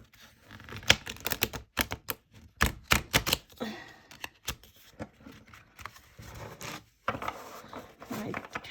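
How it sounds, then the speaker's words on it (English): Rapid bursts of flapping, riffling shuffles of a tarot deck, several quick runs separated by short pauses, close and crisp. "the cardstock itself is nice and is not hindering the shuffle"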